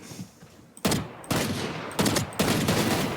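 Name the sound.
gunfire in Valorant video game deathmatch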